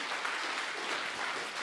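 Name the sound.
audience applause for sponsors at a conference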